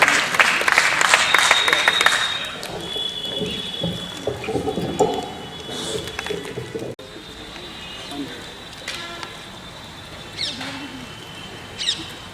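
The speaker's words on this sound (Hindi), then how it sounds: "आपकी जोरदार तालियां स्वागत करें।" Audience applause welcomes poet Aman Akshar from Indore at the Sri Yuvak Sahitya Sadan Sirsa Foundation Day gathering: loud crowd clapping at first that thins and fades over a few seconds, followed by quieter room sound with pigeon coos and brief voices.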